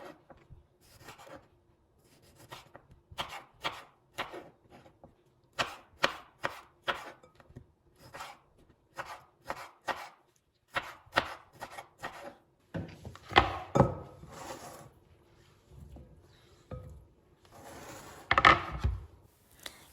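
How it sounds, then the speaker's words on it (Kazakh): A knife cuts washed tomatoes lengthwise on a board, a series of crisp, close chops in irregular bursts with short pauses and a few heavier strokes near the end, with no talking. "Алдын ала жуып тазаланған қызанағымызды да дәл осылай ұзынша етіп турап аламыз."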